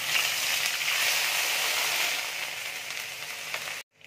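Ginger garlic paste hits hot oil with browned sugar in the pan, giving a steady bright sizzle that fades slightly before cutting off abruptly near the end.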